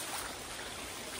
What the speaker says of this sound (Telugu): మినీ వాటర్ ఫాల్స్ వచ్చింది ఫ్రెండ్స్